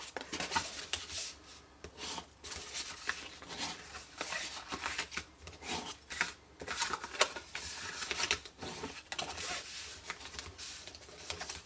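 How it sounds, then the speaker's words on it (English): Cardstock is burnished by hand with repeated close, dry rubbing strokes, a scratchy papery swish rising and falling in quick uneven rhythm, moderately quiet and without talking. "let's quickly burnish"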